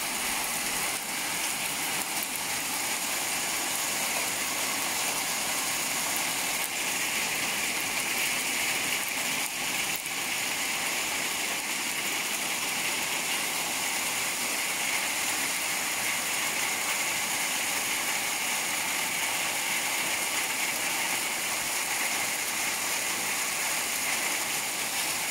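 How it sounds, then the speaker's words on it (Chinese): Hail falls at night in California, making a steady, unbroken roar of dense pattering that stays even and moderately loud throughout, with no voices. "冰雹，"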